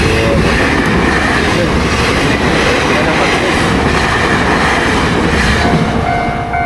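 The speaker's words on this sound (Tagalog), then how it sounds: "Yun yung fast train." Fast train rushing past close by, a loud continuous roar of rolling wheels and rushing air throughout.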